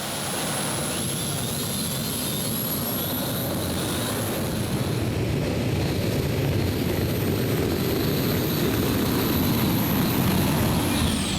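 Turbine tractor-pulling engine running four Isotov TB3 turbines at a 4.5-ton Eurocup pull in Herning, Denmark: a loud, sustained jet roar with a high whine, steady throughout and building slightly as the pull goes on.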